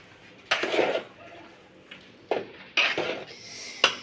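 A spoon scrapes and knocks against a large pot as biryani is stirred, giving several separate clanks and metallic scrapes spaced a second or so apart over low background noise.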